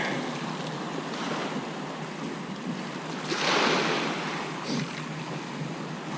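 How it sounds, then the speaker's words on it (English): Choppy sea surf breaking at a shoreline during high-tide bass and mackerel lure fishing, a steady broadband wash with one swelling surge midway, wind buffeting mixed in, no voices. "Sea's a lot more choppy than it was yesterday"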